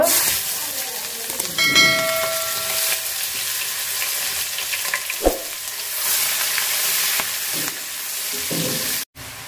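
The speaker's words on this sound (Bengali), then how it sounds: "মাছ ভাজার তেলে আমি পেঁয়াজগুলা দিয়ে দিব।" Onions frying in leftover fish-frying oil, a loud continuous sizzle and hiss with occasional clinks and stirring scrapes, no talk over it.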